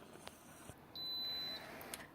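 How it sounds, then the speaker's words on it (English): An Instant Pot signals the end of a seven-minute high-pressure cycle for hard-boiled eggs with a short, faint electronic beep in a quiet kitchen. "the eggs just beeped, and that was 7 minutes on high pressure"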